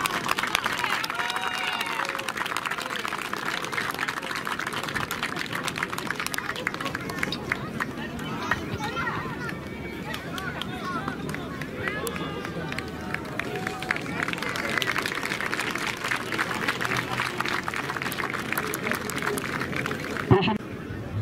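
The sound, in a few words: applause at a children's fire brigade competition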